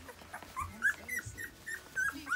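Newborn golden retriever puppies cry in a litter of thirteen with a scatter of thin, high whimpers and squeaks that overlap, soft and close with short pauses between them.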